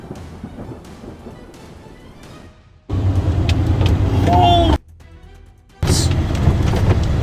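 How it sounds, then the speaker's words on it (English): Steady roar of heavy rain with low rumbling thunder, broken by brief quieter gaps before the downpour surges back loudly. "Heavy rain pours down as lightning tears across the sky"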